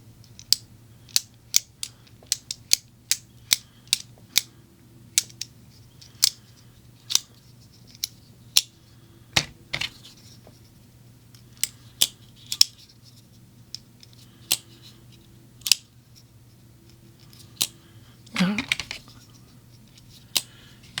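Repeated sharp mechanical clicks from a Walmart folding knife's shaft lock being opened and closed, irregularly spaced over a steady low background hum, close and moderately loud.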